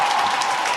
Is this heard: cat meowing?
no